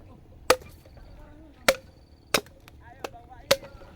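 Five sharp, hard machete chopping strikes spaced unevenly over a few seconds, the blade biting into thick, hard bamboo, each impact loud and close with a brief woody ring.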